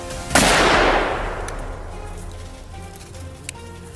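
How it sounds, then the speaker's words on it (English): A single loud rifle shot during a wild boar hunt, close and sharp, its report rolling away in a long fading tail across open grassland, followed by quiet with faint birdsong and a small distant crack. "He chambered another round and pulled the trigger again."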